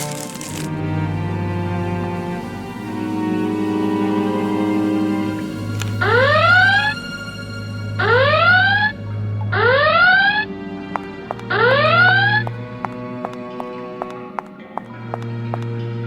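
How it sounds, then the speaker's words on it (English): Alarm from the Art of Murder - FBI Confidential video game sounding in four loud rising siren bursts about two seconds apart, with a sustained musical background beneath and no talk. "I was just looking at this beautiful thing when the alarm went off."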